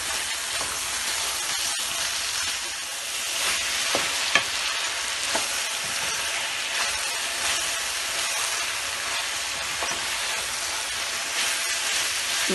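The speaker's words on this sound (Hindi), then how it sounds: "इसको तुरई को डाल के भी थोड़ा सा भूनेंगे।" Ridge gourd (turai) sizzles steadily in a hot pan for a sabzi, a continuous close frying hiss broken by occasional scrapes and clicks of a spoon stirring through the pieces.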